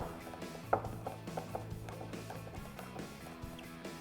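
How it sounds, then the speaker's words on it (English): A hand ratchet tightens bolts on a Ford Performance adjustable handling pack for a 2005-2014 Mustang GT coupe, giving a quick run of evenly spaced metallic clicks, close and clear, with one sharper knock early on. "Once you have that snug, back to the ratchet and tighten them down"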